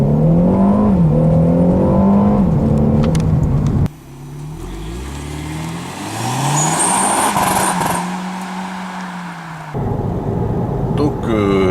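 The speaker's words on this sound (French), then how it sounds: "J'affiche le programme Launch Control qui clignote. Je lâche la pédale de frein" A Renault Mégane GT launching hard from standstill with launch control in sport mode, the engine note rising steadily under acceleration after a brief cut, loud and close inside the car.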